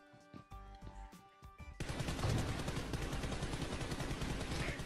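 Gunfire in the mobile shooter BGMI starts with a few separate shots, then breaks into a dense, sustained burst of rapid automatic fire that stays loud to the end, with no talking.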